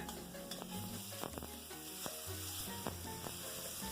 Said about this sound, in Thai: ใส่หมูหมักลงไปนะคะ แล้วเราก็จะผัดให้หมูสุกนะ